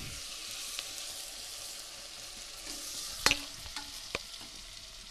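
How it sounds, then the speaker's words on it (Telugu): Ginger garlic paste sizzles and fries in a pan with other ingredients, a steady close crackle with a few sharp clinks of a spoon stirring, no talking. "అల్లం వెల్లుల్లి పేస్ట్ పచ్చి వాసన పోయే వరకు వేపుకోవాలి"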